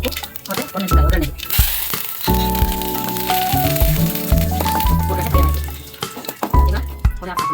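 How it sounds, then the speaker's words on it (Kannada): Curry leaves and dried red chillies hit hot tempering oil for a chutney, giving a steady crackling sizzle that runs through the clip beneath a melodic background tone, with brief louder pops near the start and end. "ಅದಕ್ಕೆ ಕರಿಬೇವಿನ ಸೊಪ್ಪು ಮತ್ತು ಒಣಮೆಣಸಿನಕಾಯಿ ಒಗ್ಗರಣೆ"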